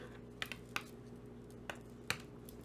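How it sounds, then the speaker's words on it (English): Knitting needles click against a desk in a handful of sharp, faint, irregular taps over a steady background hum. "The sounds of the needles hitting my desk."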